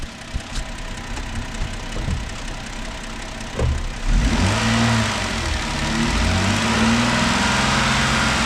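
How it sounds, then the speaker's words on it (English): A car engine idles with a low rumble and then revs up, holding at higher RPM for several seconds during an OBD-II diagnostic test. The revving is loud and steady, and no one speaks over it. "Increase the RPMs for 10 seconds."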